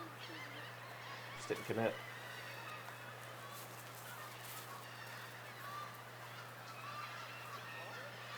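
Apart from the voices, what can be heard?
Canada geese honking in a park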